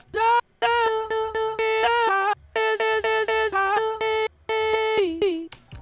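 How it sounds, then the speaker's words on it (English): Sliced vocal chop melody from an FL Studio sampler for future house, short choppy pitched vocal syllables in a quick stepping rhythm with brief gaps, dry and upfront with a faint low pulse underneath. "I just used Slicex to create a simple vocal chop melody"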